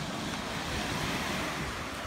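Steady surf washes in at St. Pete's Beach in St. Petersburg, Florida, a broad continuous rush of breaking waves mixed with wind buffeting the microphone.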